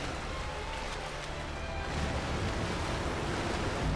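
Water sloshes and washes around continuously as a character swims in Shadow of the Colossus Remastered, a steady, fairly loud rushing surge with no talk.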